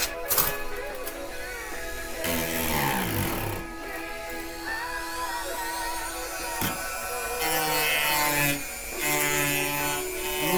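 Rasping, rubbing strokes of a tool cutting back a paint run on a Mustang's bodywork, steady and fairly quiet with irregular scraping and squeaks, close by and without speech.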